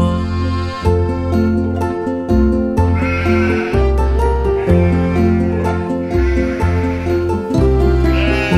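A voice imitates sheep bleats in a sung, rhythmic pattern within the children's song Baa Baa Black Sheep, loud and continuous over a steady musical backing.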